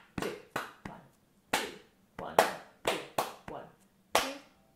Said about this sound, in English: and then I want you to clap with me.